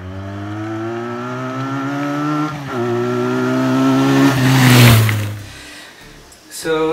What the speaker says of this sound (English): people like about the Benelli's are the sound the exhaust sound